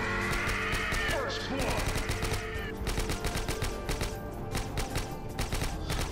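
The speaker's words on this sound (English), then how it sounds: "I kind of like use AUG for every first round of every map" An AUG rifle fires rapid automatic bursts in Counter-Strike: Source zombie escape, with dense repeated shots and overlapping gunfire from other players, loud and close, while a voice talks over the shooting.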